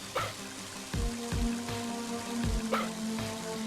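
Steady rain falls in the video game Mother 3, a continuous soft patter with musical tones and a few low thumping sounds layered over it; no one talks.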